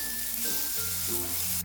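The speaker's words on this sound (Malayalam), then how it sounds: "ഇനി ഇതിലേക്ക് നമ്മൾ മസാല തേച്ച് വെച്ചിരിക്കുന്ന ബ്രിഞ്ചാൾ പീസസ് വെച്ചു കൊടുക്കാം." Masala-coated brinjal pieces set into hot oil in a pan over medium flame, a brief steady sizzle with low hum beneath, ending in a short sharp scrape.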